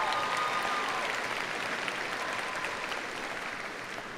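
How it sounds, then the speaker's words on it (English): Warm, sustained applause from a large audience at a university commencement ceremony for a liberal arts, sciences and engineering graduate, a dense wash of clapping that tapers slightly toward the end. "Let's give her a warm applause."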